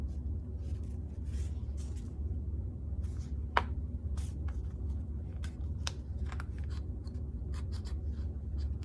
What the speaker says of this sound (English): poke through at the marks I made in the crease of the fold